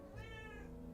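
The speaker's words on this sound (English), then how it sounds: "that's my cat Megan" A house cat meows once, a short drawn-out plaintive call heard close and clear against a quiet room with no talking.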